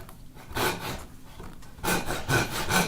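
A hand saw cuts a half-blind dovetail in wood, held lightly in the left hand, giving a few rasping back-and-forth strokes up close with short pauses between them and no voices.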